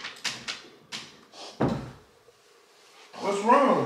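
Someone tries a locked door, producing a series of sharp rattles and knocks followed by a heavier bang; after a pause, a person's voice is heard speaking close by.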